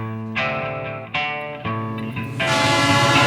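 Train horn blasts at a station in the film Jjakpae, several sustained tonal honks starting and decaying in sequence, followed by a rising, noisier swell.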